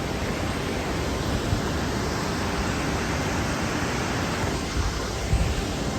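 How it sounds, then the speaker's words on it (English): A waterfall in Sulawesi, Indonesia, gives a steady, dense rush of falling water that stays at an even level throughout. No one talks and no other sounds stand out. "Alright, I found the waterfall."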